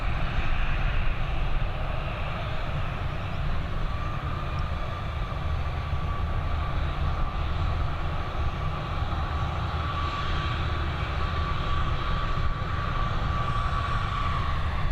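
An ATR turboprop climbs away after takeoff at Dublin Airport, its engines a steady broad drone with a faint whining tone, sustained and moderately loud from a distance.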